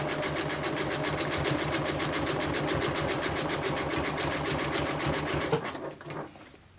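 A sewing machine runs a zigzag stitch through fabric and batting scraps, its rapid mechanical chatter steady and close for several seconds before slowing and stopping near the end.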